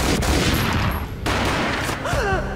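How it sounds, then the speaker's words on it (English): A gunshot from the video game Max Payne, set amid a loud, dense game soundscape of layered effects and music with a sharp drop near the middle, with no clear voices. "A gunshot boomed and she fell down in slow motion"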